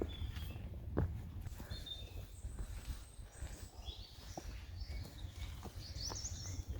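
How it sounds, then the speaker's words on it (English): Faint birds chirping at intervals over a steady outdoor background hum at the Din Lligwy ancient hut group ruins, with scattered short calls near and far. "It's peaceful, you can hear the bird song in the background."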